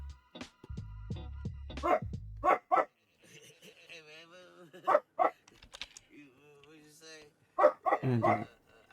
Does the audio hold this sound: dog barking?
yes